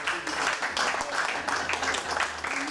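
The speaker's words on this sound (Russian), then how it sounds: "Они заслуживают просто потрясающих аплодисментов." An audience at a Family Day celebration applauds a couple married 66 years, a brief burst of moderate clapping with some voices murmuring underneath.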